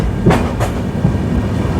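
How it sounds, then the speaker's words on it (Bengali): A departing passenger train rumbles steadily with a low, continuous roar, broken by a couple of soft clunks from the wheels, heard loudly from inside the carriage. "আমাদের ট্রেন ছেড়ে দিয়েছে"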